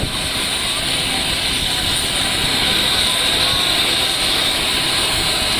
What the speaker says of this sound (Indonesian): Pesawat kepresidenan yang ditumpangi Jokowi mendarat perdana dengan mulus di Bandara IKN Kalimantan Timur Selasa sore